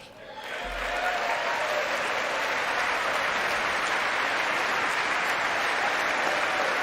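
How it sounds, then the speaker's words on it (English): Congress members applauding during the State of the Union address, a dense roar of clapping that swells in after a brief moment and sustains loudly and evenly to the end. "they get up and clap"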